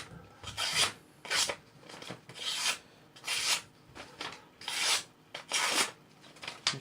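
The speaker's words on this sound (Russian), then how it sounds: "Очень хорошо стругается." Wood being shaved with a blade while carving a Yakut-style knife sheath, a series of near, rasping strokes roughly every half to three-quarters of a second, clear and alone.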